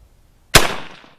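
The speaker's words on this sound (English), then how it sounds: "I'm gonna go do some shooting" A single sharp gunshot from an M96 Swedish Mauser rifle: one loud, close crack with a short fading tail outdoors, no other sounds.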